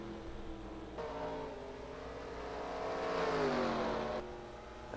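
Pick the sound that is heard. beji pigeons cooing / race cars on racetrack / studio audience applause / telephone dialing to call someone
race cars on racetrack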